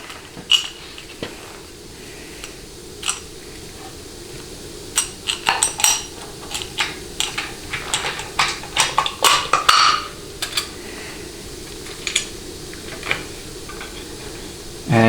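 Metal bolts being fitted and started by hand into a 4L80E transmission cover and gasket on the case, heard as scattered small metallic clinks and taps that cluster into a busier run midway over a low background hiss.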